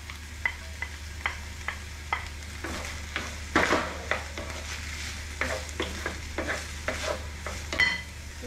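Meat and onion fry in an oiled pan, a constant close sizzle broken by regular scraping strokes of a spatula stirring, with a few louder clatters midway and no voices.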